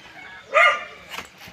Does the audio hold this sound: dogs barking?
yes